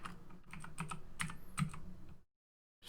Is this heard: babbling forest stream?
no